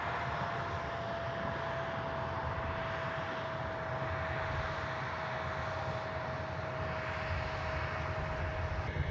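A tractor's reversed cooling fan blows with a loud, steady, unbroken roar and a faint constant whine, with no other sound over it.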